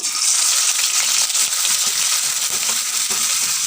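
Onion paste frying in hot oil, a dense, loud and continuous sizzle with no talking.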